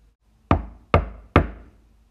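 Three firm knocks at a door, evenly spaced and close, each a sharp thud with a short decay, in an otherwise quiet room.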